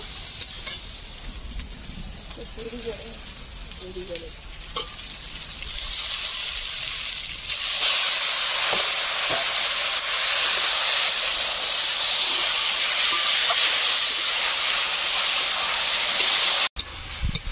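Taro leaves fry in a pan with a little turmeric, giving a steady hissing sizzle that swells sharply louder partway through and then holds strong and continuous, with a brief dip near the end.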